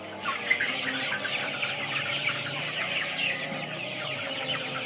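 Chickens on a farm fed a maize ration, clucking steadily and continuously at moderate distance, with no talk.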